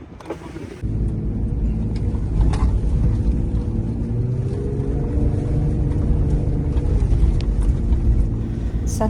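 An off-road vehicle driving on desert sand dunes near Liwa, its engine a loud, close, continuous rumble after a brief quieter start, with wind buffeting and a few faint clicks over the steady drone.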